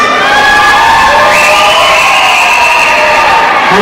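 Loud crowd of fans cheering and shouting at a speed skating race, sustained roaring close to the microphone with high whoops.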